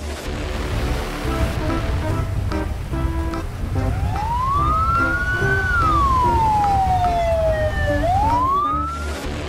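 A fire engine siren arriving in the GTA 5 video game, a loud rising and falling wail that sweeps up and down over a constant rushing background roar, with no talk.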